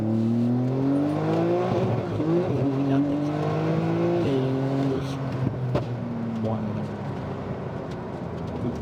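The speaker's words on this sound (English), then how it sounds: "I'm just gonna swing the car around real quick just to get on power." A 1000-horsepower Porsche 992 Turbo S flat-six build accelerates hard, its engine note climbing in pitch in several rising sweeps broken by brief shift dips, loud and close with some tire noise.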